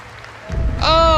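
A crowd at a Blizzard game announcement cheers and applauds, swelling loudly about halfway through as bright, sustained musical tones rise over the roar.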